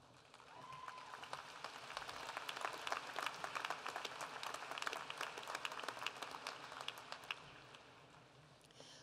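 An audience applauds at a 2018 high school graduation ceremony, a quiet, distant, steady patter of many hands clapping in a large hall that builds slightly in the middle before easing off.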